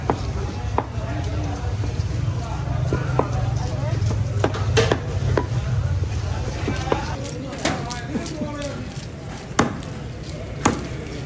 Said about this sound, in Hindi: अब हम इसके छोटे छोटे पीस करेंगे, क्योंकि ये हम फ्राई करने के लिए लेके जा रहे हैं।